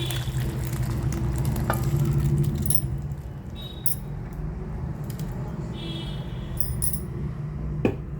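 Lentils stirred into a pot of cooking bottle gourd dalcha produce a close, continuous scraping and sizzling with light metallic clinks of the spoon against the vessel, loudest early and easing after a few seconds.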